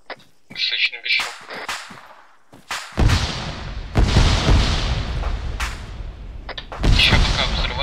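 Explosions in the military video game ARMA 3, deep booming blasts and rumbling bursts following sharp crackling shots, loud and close, with gunfire-like pops scattered throughout.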